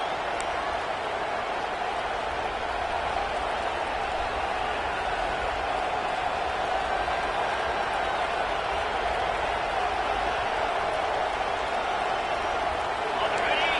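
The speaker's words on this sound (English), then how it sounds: "this crowd is fired up. Listen to this noise here." A football stadium crowd keeps up a constant, dense roar of cheering and noise, loud and unbroken, while a commentator talks over it.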